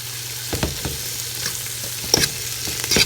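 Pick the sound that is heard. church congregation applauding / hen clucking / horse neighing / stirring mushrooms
stirring mushrooms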